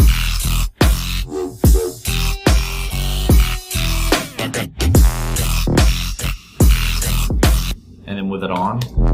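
An unmastered electronic track plays loud and full, with punchy repeated drum hits, a heavy low end and dense synth layers that drop out briefly near the end.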